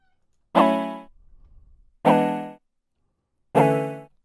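Three evenly spaced, chill synth plucks from Xfer Serum with the sub oscillator engaged, each a bright harmonic attack decaying quickly, fuller in the low end, played alone.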